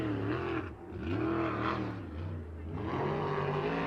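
USAC race cars at the Circle City track come around to take the green flag, their engines rising and falling as they rev and sweep past at a steady, moderate loudness.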